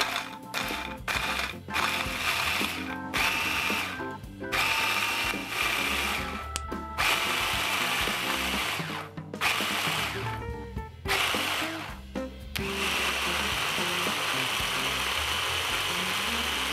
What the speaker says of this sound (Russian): Две средние луковицы мы сейчас измельчим в блендере.